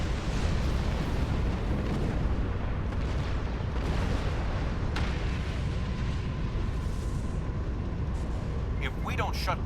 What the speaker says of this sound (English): Vosk's ship is still set to self-destruct. We should exit its explosion range before it blows.